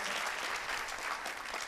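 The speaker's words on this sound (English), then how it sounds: "nice round of applause for our phys ed seniors" A quiet, brief burst of crowd applause at a school senior honors night, many hands clapping together for the physical education seniors, heard somewhat distant.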